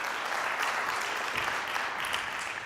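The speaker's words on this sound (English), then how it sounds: "Give this man a massive round of applause" An audience at a motor industry conference gives a speaker steady, dense applause, loud and sustained for a few seconds.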